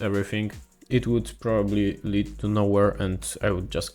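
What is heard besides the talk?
None of the usual background noises is heard.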